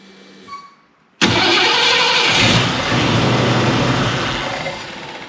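A 1968 Ford Mustang V8 cranks and catches with a sudden loud roar, runs rough and steady for a few seconds, then begins to die down toward shutdown, heard close up in a shop.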